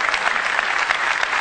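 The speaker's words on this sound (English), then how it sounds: "I'd like to give him a round of applause." A launch-event audience applauds as Intel's CEO is invited on stage after thanks to Intel for the MacBook Air: steady, dense clapping from a large crowd filling the hall throughout.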